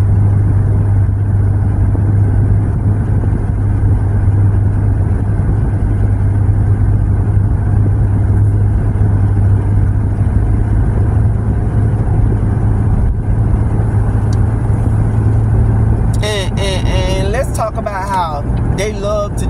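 Steady, loud road roar from inside a car cruising on the interstate, with a constant low engine drone throughout and a voice coming in near the end.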